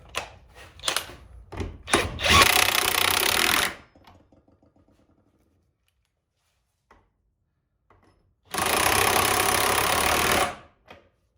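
A power tool winds in short bursts before two longer sustained runs, driving a bolt back on with a socket while work continues on a 1986 Cutlass lowrider; the runs are loud and close, separated by quiet clinks.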